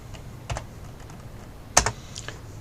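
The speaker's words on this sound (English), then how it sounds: "We are going to type in camping" Light typing on a computer keyboard: a few sparse, quiet keystrokes with one sharper tap, set against a faint room hush.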